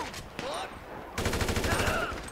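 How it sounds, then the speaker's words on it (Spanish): Blind shooting in GTA Online: a dense burst of rapid gunfire starts about midway and runs on as fast, continuous close shots, with game noise before it. "Ahí disparo ciegas, totalmente."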